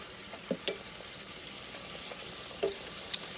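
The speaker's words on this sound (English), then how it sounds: "You can let them fry for about 30 seconds on this side before we flip them." Carnival roses dough frying in hot oil, a steady soft sizzle throughout with a few faint pops and clicks, close and fairly quiet.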